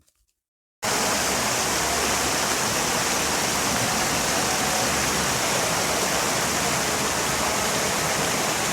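A park fountain waterfall at Green Valley Park in Lalpur, Natore, a sudden steady rushing roar of falling water that continues unbroken after a brief quiet start.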